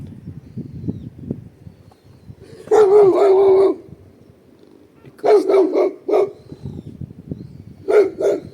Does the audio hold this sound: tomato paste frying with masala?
no